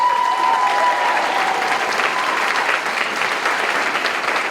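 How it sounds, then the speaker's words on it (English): A concert audience applauds a trumpet soloist at a winter symphonic and jazz concert, a dense, sustained round of clapping that stays loud and even throughout, with no voices over it. "Let's give another round of applause for our trumpet soloist"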